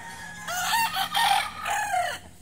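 Farm roosters let out a couple of long, wavering crows close by, one call following another with a brief cluck-like note between, loud and clear with no one talking.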